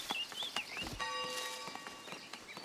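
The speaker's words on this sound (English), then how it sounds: "Oh, ring them faster." Church-style bell ringing in the colony-building video game Foundation, a single bright bell tone with a lingering metallic hum among light clip-clop footsteps and soft game ambience.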